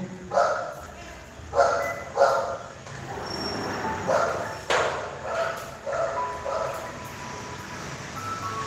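Dog barking in a Brazilian home during an art lesson, a series of sharp woofs at irregular intervals, fairly close, mixed with a person speaking.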